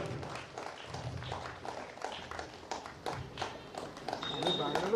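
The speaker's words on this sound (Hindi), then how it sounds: "तालियों के साथ सभी अतिथियों का सम्मान करें।" Seminar audience at St. Augustine's College, Manoharpur, applauding to honour the guests: scattered, fairly soft clapping in an indoor hall, running throughout with a speaking voice over it.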